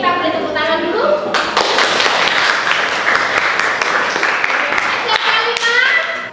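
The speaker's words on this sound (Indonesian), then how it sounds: "kita beri tepuk tangan dulu." Students in a classroom clap their hands together in a loud, sustained burst of rhythmic clapping, with voices shouting and talking over it throughout.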